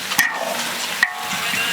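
Five-spice herbs hit a hot wok with a steady sizzle and frying hiss, broken by two sharp stirring scrapes of a utensil, close and with no talk.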